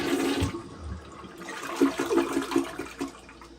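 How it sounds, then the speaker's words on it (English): A newly installed toilet is test-flushed after its bolts are tightened and caps fitted: a close rushing flush with gurgling water swirling through the bowl for several seconds, loud and steady with no talking. "Give it one more test flush."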